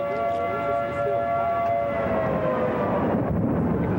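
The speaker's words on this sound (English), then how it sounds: "The sirens blare and the debris flies as it roars through the Mount Washington area" Civil defense tornado sirens wail steadily and loudly over the Mount Washington area as a twister tears through, with a deep rumbling roar beneath and a rising noisy surge near the end.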